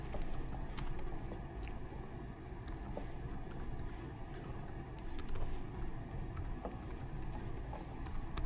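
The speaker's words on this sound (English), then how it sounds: "So I'm going to select school name and go ahead and type in that information." Typing on a computer keyboard, with scattered soft key clicks over a steady low background hum, moderately close and continuous.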